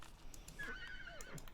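A horse in The Sims 3 lets out a single wavering whinny with a few hoof clops, fairly quiet and with no voices.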